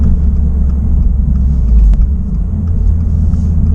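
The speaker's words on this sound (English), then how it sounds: "it accelerates extremely quickly for a 4-cylinder turbo from the factory with all these restrictions" A 2026 Subaru WRX tS with its factory four-cylinder turbo engine accelerates hard, giving a loud, steady, close engine drone with a brief peak midway and no talking.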